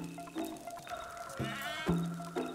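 Sheep bleating in the god-simulation game WorldBox: a few short, wavering bleats at moderate distance over a faint, steady game background, with no speech.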